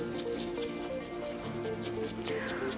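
Fine sandpaper rubbing over smooth black leather, a steady close scratching with quick repeated back-and-forth strokes and no voices.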